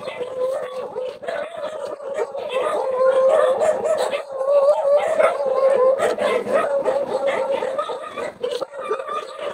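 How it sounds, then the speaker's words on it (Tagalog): Several dogs bark, yip and howl together at night in a continuous, overlapping chorus, fairly loud and close. "Daming aso mga idol"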